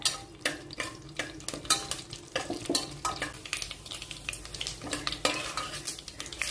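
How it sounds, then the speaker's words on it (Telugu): Dry red chillies and tempering seeds fry in oil with a low sizzle under rapid, rhythmic stirring, as a spoon repeatedly clinks and scrapes against the pan. "ఎండుమిరపకాయలు, తాలింపు గింజలు లైట్ గోల్డ్ కలర్ వచ్చేది అలాగా వేయించుకోవాలి, పెద్ద మంట పెట్టకుండా."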